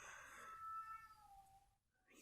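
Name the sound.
pet cats meowing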